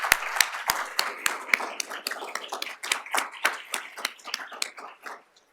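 An audience applauds a lecture speaker being introduced, starting with a few sharp nearby claps that swell into steady clapping and then taper off to silence.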